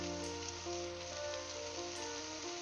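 Sliced onion sautéing in a pan for Kuttanadan duck curry, a soft steady sizzle with faint crackle throughout beneath a low continuous hum, quiet and unbroken.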